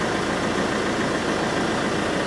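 A car engine idles steadily during a vehicle air conditioning gas refill, a close, continuous low rumble with even vibration and no voices.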